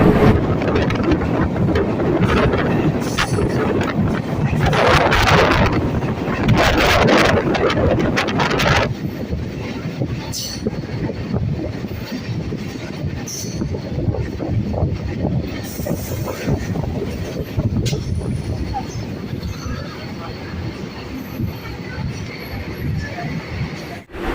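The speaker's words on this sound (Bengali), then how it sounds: "আর আমাদের ট্রেনটি এখন আগরপাড়া স্টেশন থেকে ছেড়ে দিল" A suburban train pulls out of Agarpara station towards Sodepur, its loud, continuous rumbling and clattering of wheels on rails heavy at first, then easing to a steady roll.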